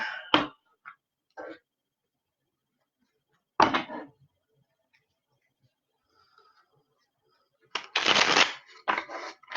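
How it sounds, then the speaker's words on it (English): Tarot cards are shuffled in a few short, crisp riffling bursts separated by quiet pauses, close by, with a longer louder shuffle near the end. "I'm going to shuffle 6 times for this one"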